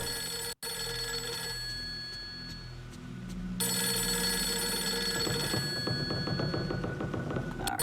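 A telephone rings in the video game Tormented Night, repeated electronic trilling bursts over a low hum, getting louder and busier toward the end.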